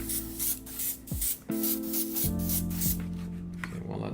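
Red primer is sprayed as a second coat in short, repeated hissing bursts from a spray can or airbrush, close and fairly loud, set against a steady humming tone in the background.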